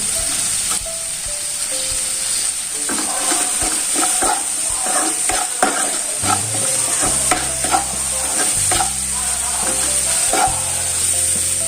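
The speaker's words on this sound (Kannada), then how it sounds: "ಈರುಳ್ಳಿ ಫ್ರೈ ಆಗ್ತದೆ" Onions fry in oil with a constant loud sizzle and hiss, while a utensil stirs and scrapes the pan in frequent clattering strokes, and a low hum enters partway through.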